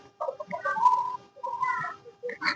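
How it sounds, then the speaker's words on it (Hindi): Desi village hens and roosters clucking softly in two short bursts, faint and nearby, with no talking. "हमारे पास मुर्गे मौजूद है"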